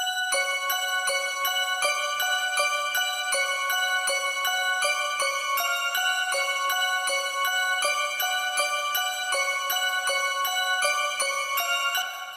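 A repeating bell-like synth melody loops steadily at an even tempo, bright and tinkling with a dark, eerie feel, playing alone with no voices.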